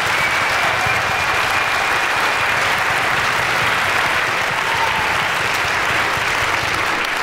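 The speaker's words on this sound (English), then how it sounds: "So let's give a big clap to Bromley." Steady, loud audience applause for a school girls' choir at a choir competition concert, a dense wash of clapping hands filling the hall without pause.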